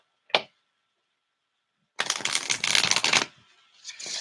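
Tarot cards being shuffled by hand: one quick riffle snap, a pause, then a dense second of rapid fluttering card riffles, trailing into softer rustling, close and clear with no talking.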